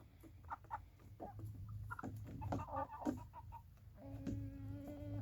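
Large, turkey-sized birds cluck and squawk around a knocked-over water pan, a string of short, scattered clucks at close range followed by a sustained tonal cry, with no talk over them.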